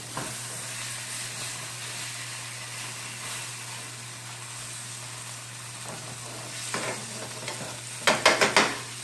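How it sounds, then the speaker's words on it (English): Pork chops sear in a pan with a steady, close sizzle and a low hum underneath. A few sharp clatters near the end suggest the chops being turned. "I'm gonna go ahead and flip these and get the other side seared"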